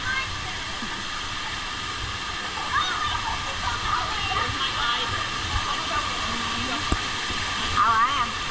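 Steady rushing hiss of falling water at Discovery Cove, constant and fairly loud, with faint voices and a few brief squeaks over it.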